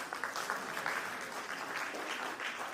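Applause from an audience at a storytelling competition finale, a dense, steady wash of many hands clapping together for the whole stretch without pause.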